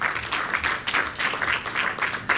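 Audience applause at the Prix Philanthropie Ivoire gala evening, a steady, fairly close wash of many hands clapping that pulses in waves for a couple of seconds.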